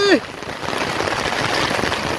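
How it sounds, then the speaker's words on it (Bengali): Heavy, continuous rain pours down on a village during a stormy day, a dense steady hiss filling the whole stretch after a brief tonal sweep at the very start. "কন্টিনিউ বেড়াই চলেছে বৃষ্টি"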